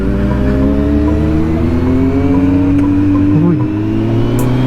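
A 2025 Kawasaki Z900SE motorcycle engine drones loud and close on a ride, its tone climbing gradually as the revs build, with a brief blip near the end.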